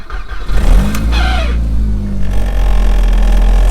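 Audi A3 1.8T engine with boost trouble revving loudly and close, a steady deep drone rising in intensity, with rattly tones over the mechanical roar.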